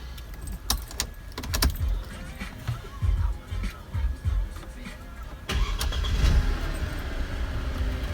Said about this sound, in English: So I'll just turn the car on right now